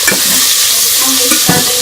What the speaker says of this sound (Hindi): इस घी के अंदर ये हम आलू डाल देंगे